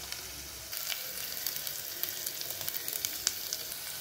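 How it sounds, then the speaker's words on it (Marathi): Crushed green chillies hit hot oil for a dal tempering, setting off a sudden crackling sizzle that continues as a busy, close, spitting hiss with sharp pops scattered throughout. "तुम्ही बघू शकता एकदम मस्त आपली अशी फोडणी आता तयार झालेली आहे"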